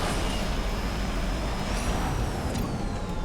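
A rival car's engine in the Asphalt racing game roars up from behind, a loud, continuous high-pitched whine with a rising tone sweep over steady road rush.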